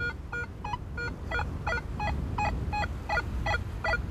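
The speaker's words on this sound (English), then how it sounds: "sort of like a chirpy signal to it" A metal detector on wet beach sand gives a run of about a dozen short, evenly spaced chirpy target tones, bright and close, repeating steadily over a low background rumble.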